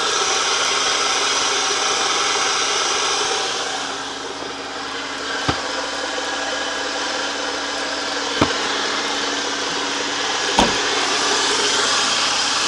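A 1991 Subaru Legacy turbo engine running rough and noisy with its timing off, a steady loud mechanical drone with a few sharp clicks or knocks standing out over about thirteen seconds.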